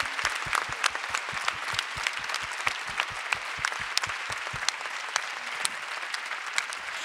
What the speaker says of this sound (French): Alors je vous demande de l'applaudir